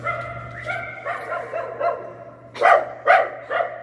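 A dog gives a short run of close, loud yips and barks at an uneven pace, building to three stronger barks near the end over a faint steady hum.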